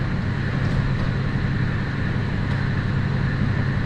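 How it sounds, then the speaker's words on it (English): A vehicle's engine runs as it is driven off a two-post automotive shop lift, a steady, loud, unbroken low rumble with no break. "and drive the vehicle out."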